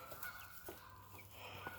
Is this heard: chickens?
yes